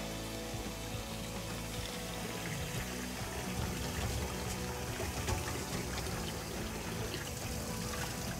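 Sushi rice is rinsed under running water in a kitchen, a steady, full pouring and splashing rush that runs unbroken throughout, with no voices over it.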